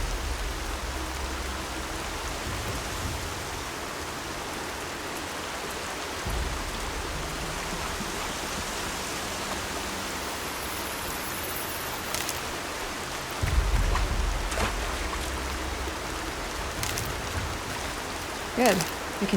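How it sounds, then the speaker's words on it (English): Steady rainfall in the video game Horizon Zero Dawn on PC, a constant hiss of rain with low rumbling underneath and a few brief sharper sounds near the end. "Rain's not so bad."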